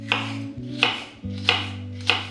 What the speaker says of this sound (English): Next, we're chopping some bell pepper.